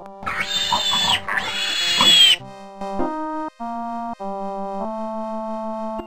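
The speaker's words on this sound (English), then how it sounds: "You're right. A pig goes." Pig oinking from an MS-DOS children's zoo game, two loud rough grunting snorts up close, followed by a plain electronic beeping jingle of stepped tones.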